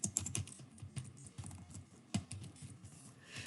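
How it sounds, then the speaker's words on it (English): A short word being typed on a computer keyboard, a steady run of soft, close keystrokes with one sharper tap partway through, fairly quiet against a faint room background. "I'm going to type in the word variance"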